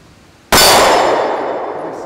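A single loud, sharp metallic clang as a Sig P365 pistol shot hits a steel target, ringing on and slowly decaying over about a second and a half, with no talking.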